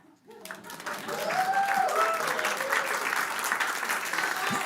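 A church congregation breaks into applause, which swells within the first second into a steady, dense roar of many hands and holds strong to the end.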